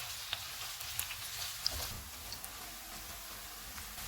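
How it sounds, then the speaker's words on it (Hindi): Onion, garlic and ginger frying in oil in a pan, a steady soft hiss and crackle with a few small pops, close and quiet throughout with no voices. "प्याज लहसुन अदरक फ्राई हो गए हैं"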